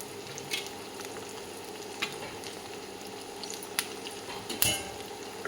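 Ginger, garlic and green chilli fry and sizzle in a pan with a soft steady crackle, while a spoon stirs and taps against the metal a few times.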